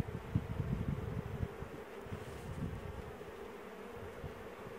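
Bees swarm inside a beehive box in Mexico, a dense, steady, loud buzzing drone heard up close without any voices.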